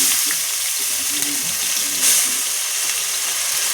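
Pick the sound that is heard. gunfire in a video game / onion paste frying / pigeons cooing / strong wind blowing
onion paste frying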